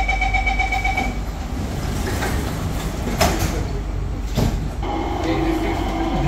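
A Singapore MRT train stands at Orchard station as its doors slide shut, with a warning chime, a hiss and thud of closing panels over steady platform and carriage rumble.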